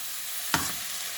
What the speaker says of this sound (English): Stir that some here, give it a little.